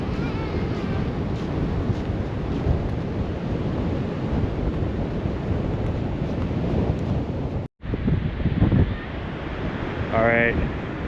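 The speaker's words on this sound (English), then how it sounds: "it is so windy" Strong wind at the shore by the Columbia River buffets the microphone in a constant roar over distant surf, with a brief dropout and a voice heard faintly near the end.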